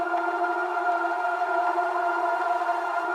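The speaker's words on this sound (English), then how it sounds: "The second one is this one, it's a long riser." Long riser effect in a liquid drum and bass track, heard here as a sustained tonal wash with airy noise on top; no clear upward sweep shows across these three seconds. No talking.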